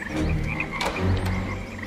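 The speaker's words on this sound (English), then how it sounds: "and the frogs came up and covered the land of Egypt" Frogs croaking as a sound effect in a dramatized Bible reading about the plague of Egypt, a dense steady chorus of croaks, loud and continuous with no voice over it.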